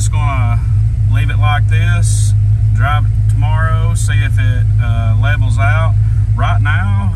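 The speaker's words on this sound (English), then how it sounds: "right now it seems like it's idling pretty good." A 1987 Ford Mustang Foxbody with an idling problem runs at a steady, low idle throughout. The engine hum stays close and constant while a person talks over it the whole time.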